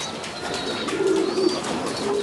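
A large, long-bodied tomprang high-flying pigeon coos in a few low, throaty notes close by, heard against a steady background hiss with no speech over it.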